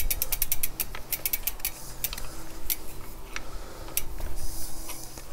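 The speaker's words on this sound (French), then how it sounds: "pour dévisser, vous tournez dans le sens inverse des aiguilles d'une montre" A clipless bicycle pedal is unscrewed counterclockwise from the right-side crank with a tool. It makes a run of sharp ratcheting ticks and clicks, clustered at the start and scattered later, close up, with no talking.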